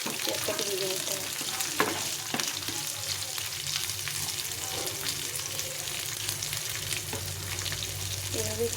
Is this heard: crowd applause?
no